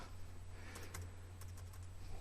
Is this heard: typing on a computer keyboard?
yes